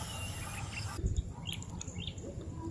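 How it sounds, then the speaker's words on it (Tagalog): Birds calling at a riverside camp, scattered short chirps and tweets fairly close, over a low rumbling background noise. "Ang music ng ibon namin dito."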